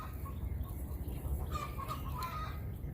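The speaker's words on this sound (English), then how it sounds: "She is the smartest, the most curious chicken that I have." A curious backyard hen in Oklahoma gives a few soft, close clucks over a low, rumbling outdoor background, the calls clustered in the second half.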